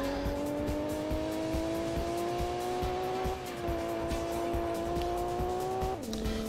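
A racing car in the PS1 game Tuning Car Battle Spec R accelerates around a circuit, its loud engine whine climbing steadily in pitch with tire squeal, then dropping sharply near the end as it shifts.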